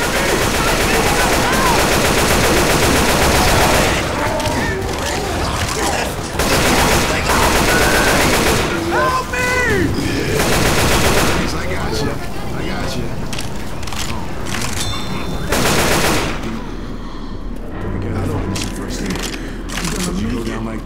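Gunfire in the video game Left 4 Dead 2: loud, continuous automatic and rapid shots in a chaotic firefight, with combat noise layered throughout and voices mixed in.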